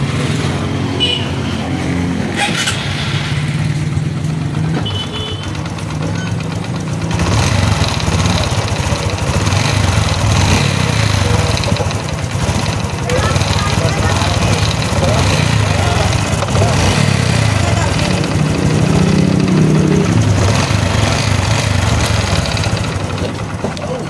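Honda XRM125 FI motorcycle engine idling close by with a piston-knock fault, a steady low mechanical chug that grows louder after a few seconds and runs continuously with a faint tapping rattle.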